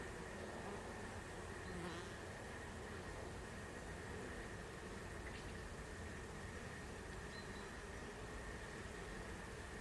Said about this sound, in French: Les abeilles sont remontées.